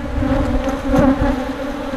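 Honey bees from a hive colony once removed from a meter box on a golf course buzz loudly and close at the opened hive during maintenance, a dense steady hum that swells briefly midway.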